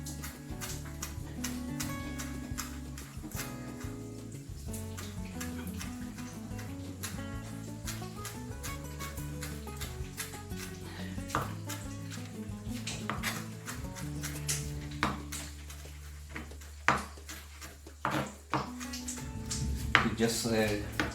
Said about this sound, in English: I'm gonna cut this coriander very